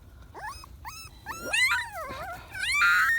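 A mother dog with puppies near its shelter in a village lets out a run of high, wavering whines and yelps, several rising and falling cries in quick succession, close and clear.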